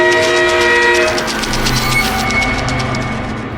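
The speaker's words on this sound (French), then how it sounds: "C'est sûrement Choo Choo Charles qui accourt au sifflet." Loud train horn from the Choo Choo Charles monster train in a video game, sustained tonal blasts over a rumbling, clattering rail approach that stays close and strong throughout, with no talking.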